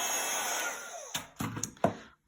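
An embossing heat tool blows a steady, loud hot-air whoosh while melting embossing powder on a card, running continuously for about a second before a few short bumps and handling knocks end the clip.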